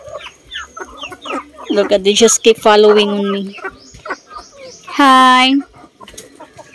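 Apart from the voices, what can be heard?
farm chickens clucking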